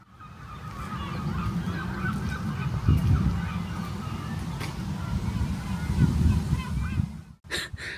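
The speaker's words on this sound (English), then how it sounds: "I've absolutely no idea why we've got frigging seagulls, but we have." Gulls call over a graveyard in Gorton, Manchester, with a run of honking, raucous cries that carry across the open ground against steady outdoor background noise.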